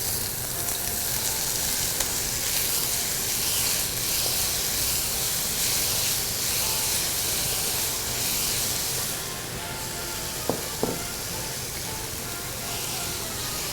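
Garlic and tomato fry in a hot pan with steady, loud sizzling and hissing throughout, broken by a couple of soft clicks near the end.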